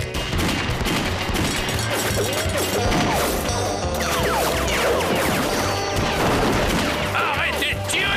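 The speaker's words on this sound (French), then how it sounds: "Arrêtez de tirer, abruti, arrêtez!" Rapid bursts of cartoon gunfire during a Lucky Luke bank hold-up scene, loud repeated shots and crashes filling the clip with little pause.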